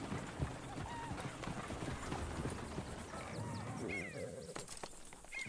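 Horse hooves clip-clopping along in Red Dead Redemption 2, steady trotting beats under a low outdoor bed, fairly faint, with no talk over them.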